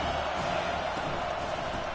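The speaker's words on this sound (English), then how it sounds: "Listen to this crowd just shaking the girders of this place," A stadium crowd roars at a UCLA football game, a dense, sustained wash of cheering voices filling the whole clip.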